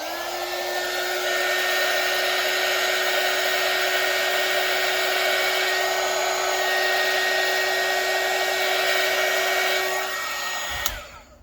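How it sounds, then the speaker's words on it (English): Heat gun blowing over UV resin in a jar to pop bubbles, a loud, steady whirring hiss that runs continuously close by for about ten seconds before it cuts off with a click. "I'm going to use my heat gun for that."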